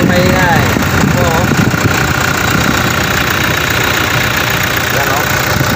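Car engine idling after a repair, a loud, steady close rumble with constant mechanical texture throughout, no voices.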